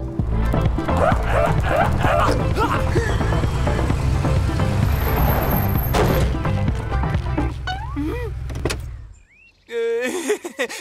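Cartoon dog barking, yipping and whimpering amid busy animated-show sound with car noise, loud throughout, then a brief drop near the end before more whining yelps.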